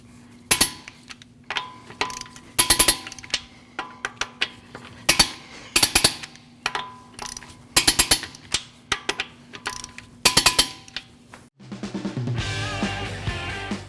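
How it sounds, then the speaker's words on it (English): Lug nuts being torqued down on a 2014-2023 Jeep Cherokee 2.4L wheel: a string of sharp metallic clicks and clacks in short bursts, fairly close, followed by a steadier mechanical whir near the end, with no talking. "you're going to torque these lug nuts at 100 foot-pounds in a crisscross pattern."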